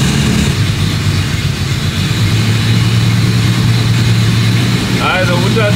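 A VW Golf engine idles steadily with a low, even hum throughout, loud and close, with a brief faint voice near the end.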